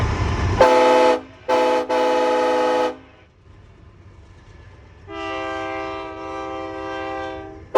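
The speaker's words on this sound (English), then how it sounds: "let's see if this train honks back" A loud, close train horn blasts in several long honks from a homemade loud horn setup, pauses, then a deeper, more distant horn on a passing train answers with a sustained toot.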